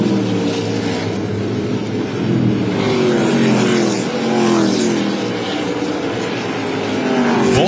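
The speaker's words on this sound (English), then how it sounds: "Both of those cars sliding out of turn four right there." Race cars at Irwindale in an ARCA Menards Series West event, engines roaring loudly and continuously as several cars slide through a turn, pitch rising and falling with no talk over them.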